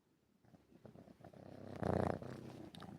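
A cat purrs close to the microphone, a soft rhythmic rumble that swells louder toward the middle, heard alone without talk.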